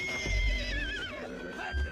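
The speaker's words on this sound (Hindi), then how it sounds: "देखा तो घोड़ी अपने बच्चे के लिए तिलमिला रही थी।" A mare whinnies anxiously for her weak foal in a film scene, a long wavering neigh with shaking harmonics that rises and falls for about two seconds over a low rumbling score.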